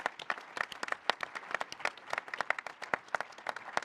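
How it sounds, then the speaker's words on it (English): Audience applause at the NAHT education union conference at Telford International Centre, a lively patter of individual claps, fairly distant and moderately quiet, with no talk over it. "Let's give them a big round of applause."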